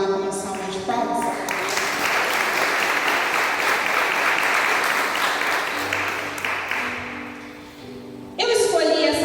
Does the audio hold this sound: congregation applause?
yes